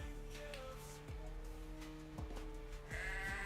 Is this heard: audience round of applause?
no